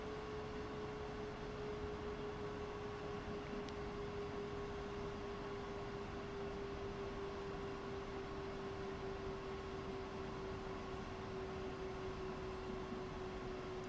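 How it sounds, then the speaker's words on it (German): BR 112 electric locomotive braking in Train Sim World 3 on the Main-Spessart line, heard from the cab as a steady low rumble with a sustained tone that slowly falls in pitch over a continuous noise bed. "So, dann würde ich gerne abbremsen."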